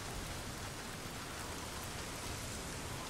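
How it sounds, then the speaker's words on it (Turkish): Steady rain falling in the open world of the video game Days Gone, a dense, even hiss of drops on surfaces with no pauses, fairly loud and continuous throughout with no voices. "yağmur başladı ya."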